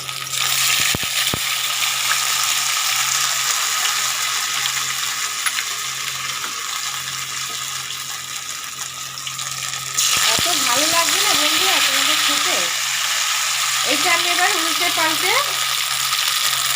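Flattened rice (chira) pakoras deep frying in oil make a loud continuous sizzle, with scattered scraping and clinks of a spoon stirring and lifting them, and faint background music partway through.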